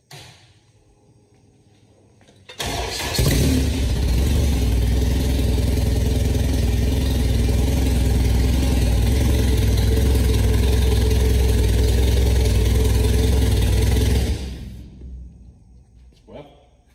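A Honda K24 engine swapped into an EG hatchback cranks and fires abruptly, then holds a steady, loud rumbling idle for about eleven seconds before shutting off and dying away; close up, no voices.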